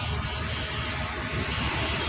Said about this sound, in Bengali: তো আমাদের ড্রোনটা নিচে নামতেছে